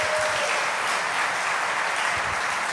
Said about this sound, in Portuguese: Aplauda o Senhor por esses atores maravilhosos